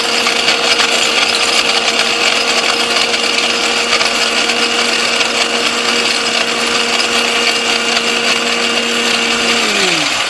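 An electric kitchen blender grinds curry ingredients in a loud, steady whir that runs unbroken for about ten seconds, then winds down as the motor slows at the end.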